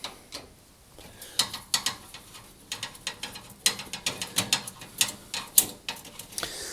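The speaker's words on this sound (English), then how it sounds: "I need to undo two screws holding the vent grille in place at the rear of the cooker" Screws are undone on the rear vent grille of a Rangemaster cooker, giving a quiet run of clicking, ratcheting ticks in irregular bursts, with short gaps between turns.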